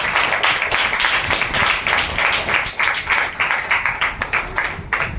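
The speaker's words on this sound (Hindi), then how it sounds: "हम जोरदार तालियों से उनका स्वागत करें।" Applause from an audience at a spiritual gathering, with dense, steady clapping that is loud and fairly close and carries on without a break.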